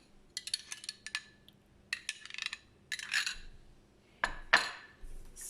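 Metal pan set out for cooking appam: a scattered series of light metallic clinks and clatters, close and fairly quiet, with a few sharper knocks near the end and no talk.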